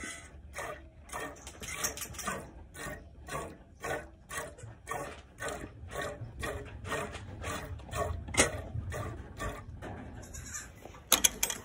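Nigerian Dwarf goats, first-time milkers, bleat over and over in a close, steady series of loud calls with brief gaps between them.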